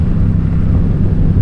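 A Yamaha FZ-07/MT-07 motorcycle engine fitted with an Ixil L3XB exhaust idles with a deep, steady rumble, close and loud, throughout a brief moment.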